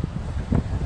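Low, steady rumble of wind buffeting a microphone, with a brief stronger gust midway.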